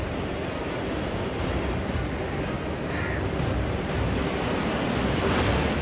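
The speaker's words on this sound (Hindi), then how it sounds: "पानी की ये रफ्तार और ये शोर दिल्ली के लिए खतरे का संकेत है।" Rushing, flood-swollen Yamuna river water at the Hathni Kund barrage in Haryana, a dense continuous roar that stays loud and steady throughout, with no speech.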